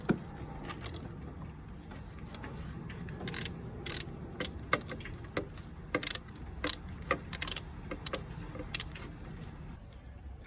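Ratchet tightening new radiator hose clips on an MK2 Golf GTI, close up: a string of crisp clicking ratchet strokes in short irregular bursts over a quiet garage background, with no talking.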